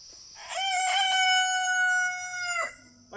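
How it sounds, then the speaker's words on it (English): A rooster crows loudly and close by in one long, harmonically rich call lasting a couple of seconds, with a hint of hen clucking before and after. "these chickens are so loud"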